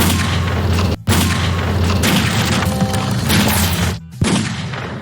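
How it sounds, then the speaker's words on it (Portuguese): A gunshot effect stands in for breaking wood in a Titanic film scene, with sharp, loud cracks and booms rising out of a dense, continuous roar of the film's sound mix. "é o mesmo barulho da madeira quebrando e o revólver do cara"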